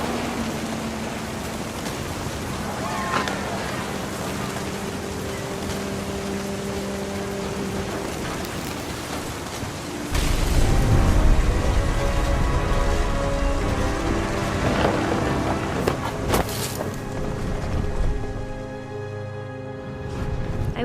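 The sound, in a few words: thunder and rain storm in the video game What Remains of Edith Finch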